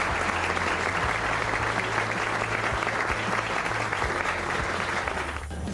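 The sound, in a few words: auditorium ovation at a tribute ceremony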